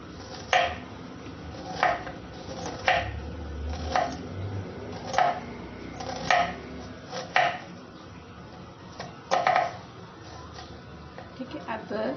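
A knife chops onion finely on a board in a series of crisp, evenly spaced taps about once a second, close by, with talk in the background.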